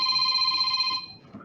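A mobile phone rings loudly during a podcast recording, a steady electronic tone held for about a second before cutting off, leaving faint room noise.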